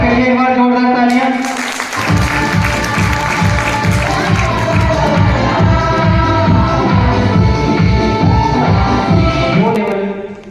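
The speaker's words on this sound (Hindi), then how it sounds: "सर के लिए एक बार जोरदार तालियां।" Audience applause at an award function, with loud sustained clapping and some cheering from the crowd while music plays prominently throughout.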